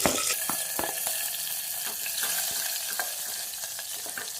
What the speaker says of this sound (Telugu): అవి కొంచెం వేగాక సన్నగా పొడవుగా కట్ చేసి పెట్టుకున్న ఒక రెండు పచ్చిమిర్చిని వేసుకుందాం